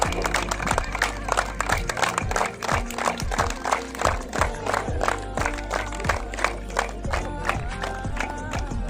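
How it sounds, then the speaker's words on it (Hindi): A crowd at a two-day hockey tournament for Sports Day gives loud, sustained clapping to welcome a guest, with a rapid steady patter of hands and a loudspeaker voice above it. "जोरदार तालियों के साथ।"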